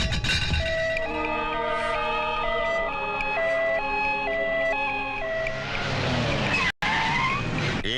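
A wailing ambulance siren rises and falls steadily alongside passing cars in a Telugu film scene, loud and continuous, ending with a rush of engine and tire noise before a brief cut.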